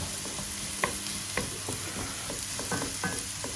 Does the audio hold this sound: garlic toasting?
yes